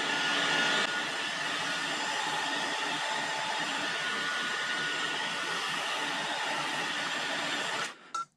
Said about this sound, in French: je vais placer une gaine thermorétractable que je vais réduire au décapeur thermique